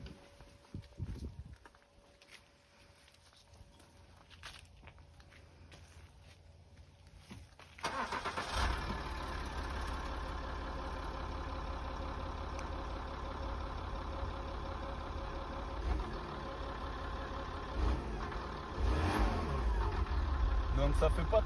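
A Peugeot 204 car is cranked after a few quiet handling noises and catches into a steady, fairly quiet idle that runs on for over ten seconds, rising slightly near the end, close by.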